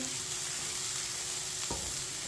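Chopped onions fry in hot oil for a green chilli rice dish while a spoon stirs them, giving a steady close sizzle with a single sharp scrape of the spoon near the end.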